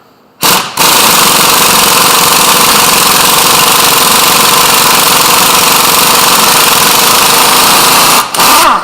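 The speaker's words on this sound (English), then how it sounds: "So use a 12-point 10mm socket and we're going to take them out." Power tool removes differential bolts with a 12-point 10mm socket, a loud continuous hammering rattle starting abruptly and running for about eight seconds before cutting off.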